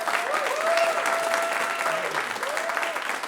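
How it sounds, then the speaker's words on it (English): Dense audience applause for a speaker being introduced at a conference, a loud, continuous wash of many clapping hands with a few whoops, sustained throughout. "So, can we get a big round of applause for the guy who's making this all possible, Sander?"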